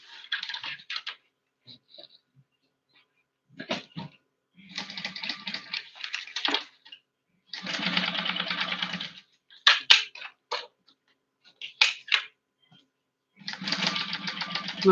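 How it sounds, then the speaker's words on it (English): A domestic sewing machine top-stitches the folded end of a fabric pouch: close, rapid mechanical stitching runs in bursts of one to two seconds, separated by quiet pauses. "now I'm going over that folded end to top stitch it"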